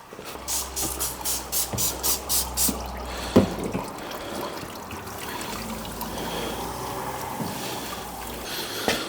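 Liquid drains during a homebrew brew day on a trial brewing kit, a steady trickle and hiss with a run of rhythmic pulses and a sharp knock early on.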